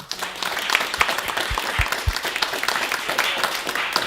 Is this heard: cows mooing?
no